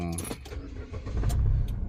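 A Nissan March hatchback with a push-button start cranks and catches, a brief whirring crank followed by the engine settling into a low idle, close by and fairly loud.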